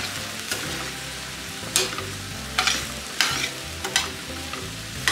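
Huitlacoche frying in a pan, a soft continuous sizzle punctuated by a series of distinct scraping stirs roughly every half second to second, close and clear, no voices.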